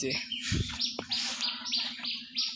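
Desi chickens in a two-storey poultry farm give repeated high, thin chirps close by, coming in quick overlapping bursts over a low murmur.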